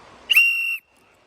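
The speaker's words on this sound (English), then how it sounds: "so I keep this whistle." A safety whistle blown once in the woods, a single sharp, piercing blast of about half a second, close and loud, then quiet.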